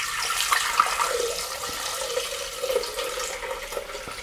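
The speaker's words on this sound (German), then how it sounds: "Die Flüssigkeit gebt ihr nun vorsichtig zurück in den Mixtopf." Watermelon syrup poured carefully back into a Thermomix TM5 mixing bowl, a continuous splashing, trickling stream of liquid with small drips near the end, alone without talk.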